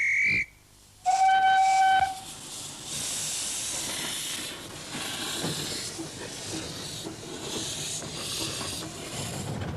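A miniature steam engine on the Lappa Valley Railway near Newquay, Cornwall hisses loudly and steadily, with a short high whistle blast near the start before the broad hissing takes over.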